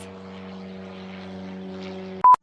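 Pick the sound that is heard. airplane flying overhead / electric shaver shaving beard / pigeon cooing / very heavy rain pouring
airplane flying overhead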